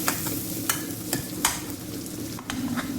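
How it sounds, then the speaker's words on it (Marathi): Onions for pav bhaji fry in a pan with a steady close sizzle, while a spoon scrapes and stirs them in several sharp, evenly spaced strokes. "आपल्याला कांदा लाल होईपर्यंत भाजून घ्यायचा आहे"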